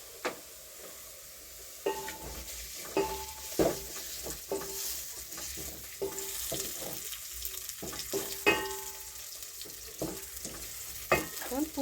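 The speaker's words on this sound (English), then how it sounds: "We fry the onions and we get ready to the cooking." Onions fry in a small amount of oil in a pan while an omena dish is being prepared. A soft, steady sizzle runs under a series of sharp clinks and scrapes from stirring, with no talking.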